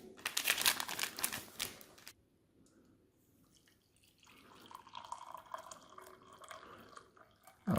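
Water pours into an MRE coffee pouch, a soft liquid trickle running for several seconds after a burst of loud crinkling from the packaging.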